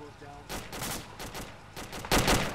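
Enemy gunfire in the military shooter Arma 2 crackles in several sharp bursts and single shots, some distant and some closer, with a loud volley near the end and faint radio chatter underneath.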